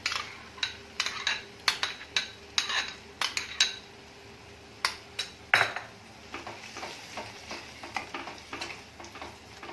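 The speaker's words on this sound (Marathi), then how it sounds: "आता ह्याच्यामध्ये काजूची पेस्ट टाकून घ्यायची आहे" A spoon clinks and scrapes against a pan as cashew paste goes into a cooked onion-tomato gravy for a soybean curry, close and sharp in quick bursts, with a faint sizzle underneath and no talking.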